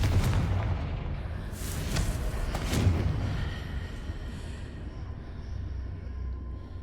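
A Confringo explosion spell goes off in Hogwarts Legacy, a few heavy, booming blasts close together, then a fading rumble and quieter game ambience.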